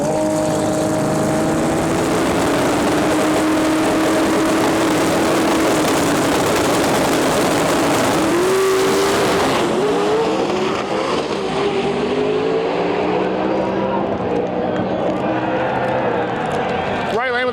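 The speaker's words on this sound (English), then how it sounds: "Ryan Hendrickson going up against Camilo Bad Bunny Velez driving Big Mac the GTR." Drag race cars, including a Nissan GTR, launching and roaring down the strip, loud sustained engine scream with shifting pitch that fades into distant rumble, an announcer talking over it.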